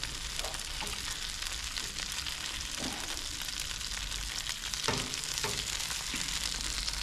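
Ormers (abalone) frying in a pan, giving a continuous bright sizzle and crackle with a few soft stirring scrapes, close and steady, with no talking.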